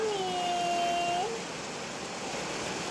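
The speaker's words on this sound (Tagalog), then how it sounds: "Lakas ng ulan." Heavy rain falls in a steady, even hiss with no break, while a faint whistling tone glides briefly over it near the start.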